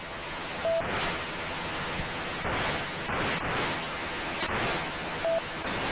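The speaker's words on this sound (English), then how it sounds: "I'm gonna be hearing this beeping sound in my nightmares tonight" Electronic beeping from an Amiga video game repeats in short, sharp bursts at irregular intervals over a hissy, noisy background, fairly faint overall with no talking.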